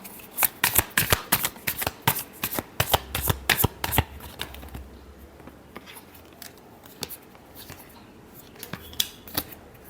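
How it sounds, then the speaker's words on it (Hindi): Tarot cards are shuffled close up, a quick run of crisp riffling flicks and slaps that fades into softer, sparse card handling with no talking. "Last shuffle."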